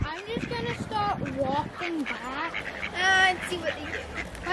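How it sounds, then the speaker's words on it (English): Ducks at a wild campsite quack and honk in a lively, overlapping chorus close by, while people talk over the calls throughout. "we've got our own duck army, haven't we?"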